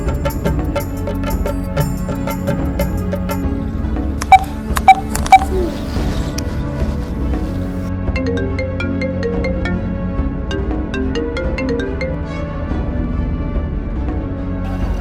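Telephone number dialed with a run of keypad tones, then a repeating ringback pattern, clear and close with no talking.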